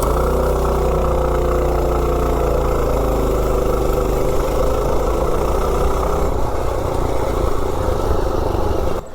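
A mini bike engine with mechanical fuel injection accelerating from standstill to 30, a loud close drone whose pitch climbs and wavers steadily for several seconds before easing off at the very end.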